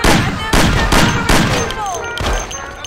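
Rapid gunfire bursts from a 1930s-era Mafia video game shootout, loud and close, with several sharp volleys cutting through shouting voices.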